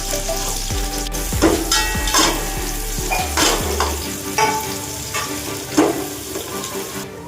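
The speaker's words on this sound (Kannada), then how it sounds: "5 ಗುಂಟೂರು ಮೆಣಸಿನ್ಕಾಯಿ, 2 ಮೀಡಿಯಮ್ ಸೈಜ್ ಈರುಳ್ಳಿ ಹಾಕಿ ಚೆನ್ನಾಗಿ ಫ್ರೈ ಮಾಡ್ಕೊಬೇಕು" Dried Guntur red chillies and medium onions fry in hot oil in a home kitchen, a steady close sizzle broken by repeated scraping stirs and clinks of a spatula against the pan.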